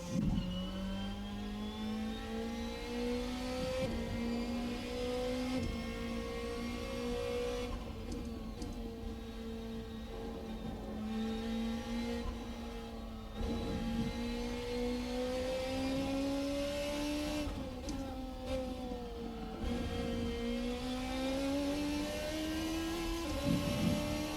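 Engine of the IER P13c race car in a racing game, droning steadily with rising and falling revs as it shifts through gears over a long stretch, loud and continuous with no speech.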